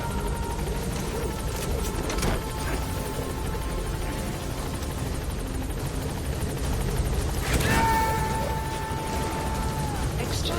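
Helicopter engine and rotor drone from an extraction chopper arriving at Mother Base in Metal Gear Solid V: The Phantom Pain, a steady whirring roar sustained throughout with a rising tonal whine near the end, game effects layered over it.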